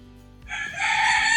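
A rooster crows once, a loud drawn-out call rising after a brief quiet start, fairly close and heard on its own.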